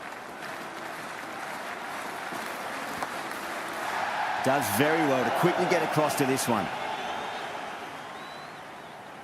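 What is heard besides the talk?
excited cricket crowd in the stadium, from the video game Cricket 26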